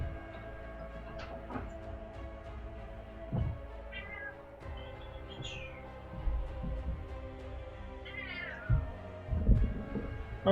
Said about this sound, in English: My cat needs in.